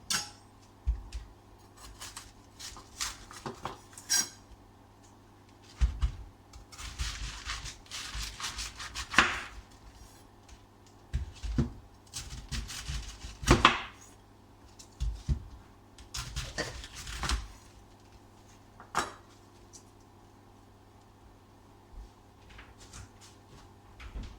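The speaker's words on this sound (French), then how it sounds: "J'ai un couteau bien aiguisé et je vais couper mon chou" A sharp knife cuts through a cabbage, splitting it into quarters: a run of irregular crisp chops and scrapes against a cutting board, with pauses between bursts of cutting. No one speaks.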